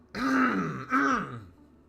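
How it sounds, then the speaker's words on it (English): A man nearby clears his throat twice with deep, voiced "ahem" sounds. Each comes as a separate short burst, with quiet before and after. "Sorry, I had a weird cough. A little something in my throat."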